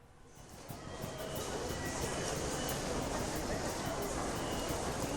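Busy train station din with rolling rail wheels and rumbling carriages, a steady loud wash of noise from start to end, with faint high whistle-like tones running through it.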